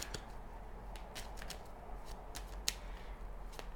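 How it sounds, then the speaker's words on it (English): Quick riffling of tarot cards, a series of crisp short flicks and shuffles close by, fairly quiet, with no talking. "So let me shuffle the cards."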